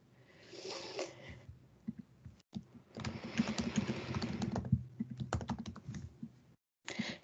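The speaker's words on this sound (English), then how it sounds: "I can send a message if I want to just by typing someone's name." Typing on a computer keyboard in close, rapid bursts of clicking keys, a dense clatter with a couple of short pauses, no voices over it.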